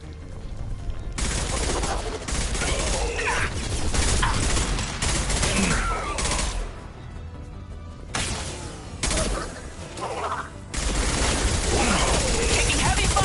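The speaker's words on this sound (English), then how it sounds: "Taking heavy fire!" Dense, sustained gunfire from a Mass Effect firefight, with bursts of rapid shots and heavy impacts running almost continuously, pausing briefly a few times before resuming loud and close.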